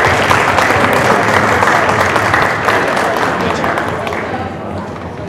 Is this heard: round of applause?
yes